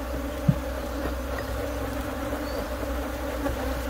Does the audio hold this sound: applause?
no